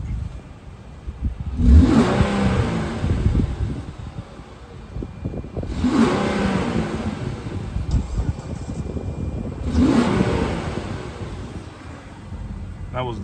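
Engine of a 2015 Infiniti Q50 with 105k miles, warmed up and heard from the front of the car, revs three times to about 4,000 RPM, each rise swelling loud then falling back to a steady idle with some wind buffeting.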